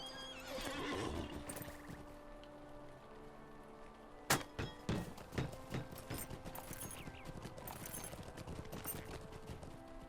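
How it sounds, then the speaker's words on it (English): A horse in the Lord of the Rings Online game gives a long whinny, then hooves clip-clop in a quick run of sharp, close strikes against a faint background. "Let me get on my horse to do this."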